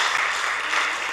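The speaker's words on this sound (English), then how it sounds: "Just to give it a round of applause." Brief burst of steady audience applause closing a workshop session, moderately loud and even, with no talk over it.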